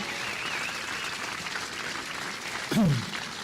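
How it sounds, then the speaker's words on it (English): A crowd at an outdoor statue unveiling in Cleveland's Little Italy applauds, a broad, even roar of clapping with a short voiced exclamation cutting through near the end. "Come over here and just give these two an incredible round of applause."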